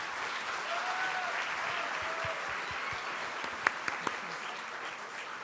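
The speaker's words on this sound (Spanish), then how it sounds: "la despedimos por favor con un fuerte aplauso" An audience at a Women's Day panel gives a departing guest speaker a steady wash of applause, fairly soft and distant, with a few sharper individual claps standing out near the end.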